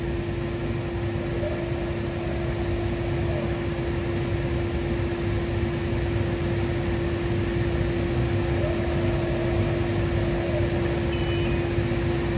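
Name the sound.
Epilog laser cutter vector-cutting acrylic key tag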